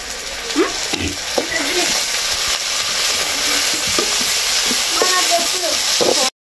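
Soy sauce added to fried onions for gobi manchurian, a close, busy sizzle with repeated spatula scrapes and clinks against the pan, ending suddenly; a faint voice may be present.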